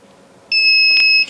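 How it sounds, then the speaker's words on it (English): A thermostat control panel in a Winnebago Travato 59KL RV gives one clear, sharp electronic beep, a steady high tone that lasts about three quarters of a second, loud and close. "you'll hear a beep, a green light will come on"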